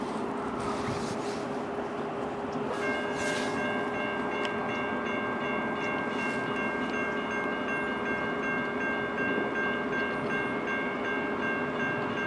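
A CN freight train at a road crossing in Emmett, Michigan, a steady loud rumble of passing cars with crossing bells ringing in a sustained tone.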